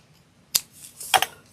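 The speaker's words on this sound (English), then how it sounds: "And then just cut a tiny little hole out." Scissors snip a tiny hole in folded paper: one crisp cut, then a quick double snip a moment later, close and clear against near silence.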